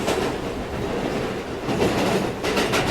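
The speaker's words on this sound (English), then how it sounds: "This is a clockwise A train via the inner loop." A New York subway A train rolls along the rails with a loud, continuous rumble and roar, rhythmic clickety-clack joints and faint wheel squeal building near the end, heard from inside the car without voices.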